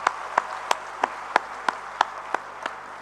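Applause for listeners at home during a live Malaysian radio broadcast, heard as a series of about nine evenly spaced sharp claps, moderately loud with no talking.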